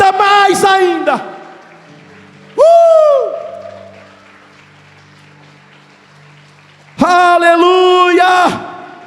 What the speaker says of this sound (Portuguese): Aplauda mais ainda.